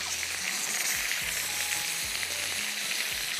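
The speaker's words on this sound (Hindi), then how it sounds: "चिकन पीसेस को फ्राई करना है।" Chicken pieces frying in a pan for a tawa masala dish, a steady hissing sizzle all the way through over a low rhythmic hum, with no talking.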